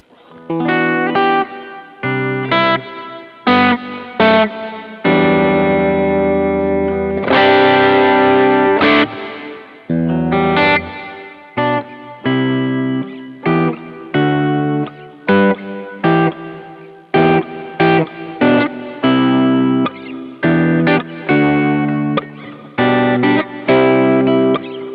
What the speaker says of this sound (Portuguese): Beleza, esse foi o reverb.